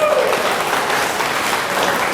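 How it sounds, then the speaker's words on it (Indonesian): Listeners at a business seminar break into loud, sustained applause. The clapping fills the two seconds evenly and a faint murmur of voices runs underneath it. "Tepuk tangan buat Anda."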